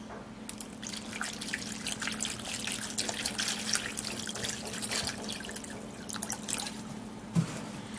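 Cut pieces being washed in water, with continuous close trickling and dripping, small splashes and clinks scattered throughout, fairly quiet and without talk.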